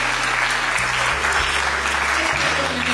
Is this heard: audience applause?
yes